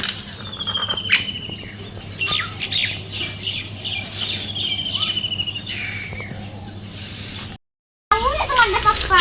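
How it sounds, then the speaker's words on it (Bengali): Morning birds chirp and squawk in a rural setting, several bright calls repeating irregularly over a low steady hum, fairly close, with a brief silent gap near the end. "সকালবেলা পাখি ডাকে কিচিমিচি"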